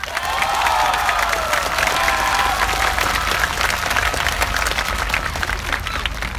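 A large outdoor crowd at a Thammasat University political rally applauds and cheers continuously, dense clapping with shouts mixed in, loud and sustained throughout.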